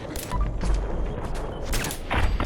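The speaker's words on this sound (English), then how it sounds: "Get some shots in." Gunfire in Fallout 4: a rapid series of sharp shots and booming impacts bursts out repeatedly across the short stretch, loud and close, with no speech.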